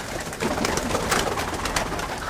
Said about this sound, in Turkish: Şimdi burada bir de bir çift şebabımız burada, var.